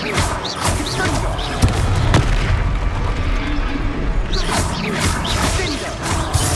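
Confringo fire spell explosions in the video game Hogwarts Legacy, a dense roar of booming blasts and crashing impacts that stays loud throughout, with bursts of whooshing over the noise.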